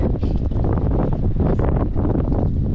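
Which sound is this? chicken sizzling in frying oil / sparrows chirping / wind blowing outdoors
wind blowing outdoors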